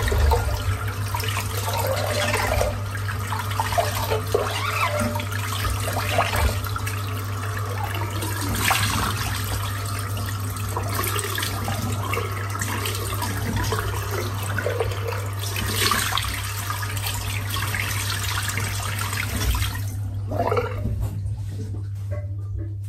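Water runs steadily from a tap while a boar-bristle shaving brush is rinsed, a loud continuous splashing stream with a constant low hum underneath that cuts off abruptly near the end.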